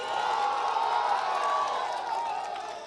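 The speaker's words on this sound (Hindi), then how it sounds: "शंभू शरण जी का भी तालियों के साथ स्वागत कीजिए।" A crowd at a Jamui election special report applauds and cheers to welcome a JDU guest, Shambhu Sharan, a dense continuous wash of clapping and crowd noise that tapers slightly at the end.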